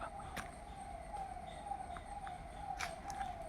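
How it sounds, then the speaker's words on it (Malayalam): A passing ambulance siren sounds as a steady, moderately faint wail, drifting slightly in pitch over a low rumble of background noise. "ഒരു ആംബുലൻസ് പോകുന്നുണ്ട്"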